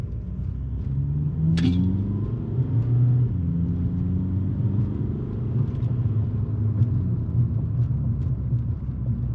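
A 2005 Volkswagen Beetle TDI diesel on a test drive after new motor mounts, its engine a low steady rumble heard from inside the cabin, with a brief sharp knock early on and no talk.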